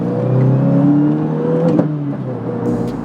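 A 2024 Subaru WRX fitted with a short shifter drives under steady load, a loud engine drone with a whirring transmission whine and a brief knock midway, recorded from inside.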